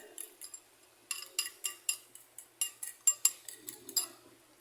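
Eggs whisked by hand in a bowl, a run of rapid clinking strokes in short bursts with brief pauses, close and fairly crisp, no talking.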